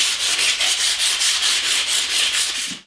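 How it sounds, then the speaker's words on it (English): Steady back-and-forth sanding of wood molding with 150-grit sandpaper, rhythmic rasping strokes about four per second, loud and close, ending abruptly. "I'm going to give it a quick sanding with 150 grit sandpaper"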